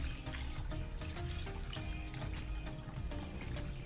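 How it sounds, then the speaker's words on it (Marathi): Water pours steadily from a tap into a bowl of cleaned cashews in a kitchen, a close, continuous gushing splash with no voices over it. "आता मी भरपूर पाणी घालते"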